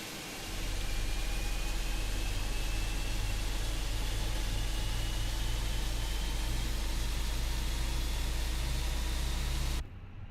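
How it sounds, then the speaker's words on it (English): Airbus A320 engine spooling up during start in the Fenix flight simulator, a steady broadband roar and whine with a low rumble that holds loud and even, then cuts off abruptly near the end. "So let's start the engine."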